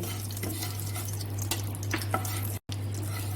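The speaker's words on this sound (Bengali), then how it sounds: "চিনিটা আমি তেলের সঙ্গে ভালো করে নেড়ে নিচ্ছি" Sugar being stirred into hot oil in a pan for a paneer masala, a steady low sizzle with soft scraping strokes throughout, a brief dropout near the end, no talking.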